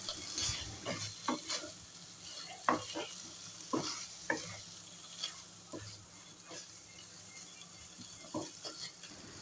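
A spoon stirs and scrapes through beef keema with freshly chopped coriander in a frying pan, with irregular clinks and soft sizzling over several seconds, close and moderately quiet.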